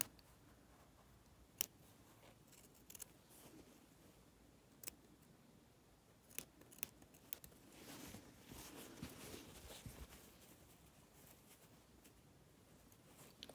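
Small scissors snip away fabric in cutwork embroidery on a heart design, with sharp isolated clicks and short bursts of cutting heard close and very quiet, spaced irregularly.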